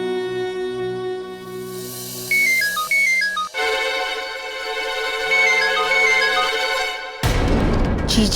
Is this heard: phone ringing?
yes